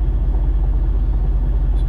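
A tractor-trailer rolls along the highway on a winter trip through Illinois toward Pennsylvania, its cab filled with a steady, loud low rumble of engine and road noise that holds evenly throughout.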